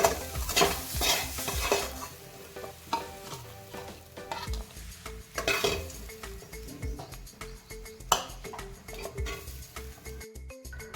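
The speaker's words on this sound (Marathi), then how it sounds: "हे सगळी मेथी मी एका प्लेटमध्ये काढून घेते" Cooked fenugreek leaves scraped off a pan onto a plate with a spatula, steady scraping and stirring with occasional metallic clinks, close and continuous, no talk.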